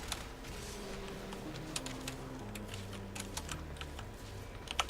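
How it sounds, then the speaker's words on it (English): Rapid, irregular clicking of fingers typing on a computer keyboard during an online game session, close and steady over a droning game background with low musical tones. "I was just typing that in chat"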